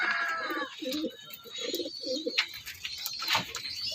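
Soft, repeated low cooing of racing pigeons nearby, several rolling coos over a faint background hiss and a few sharp chirps.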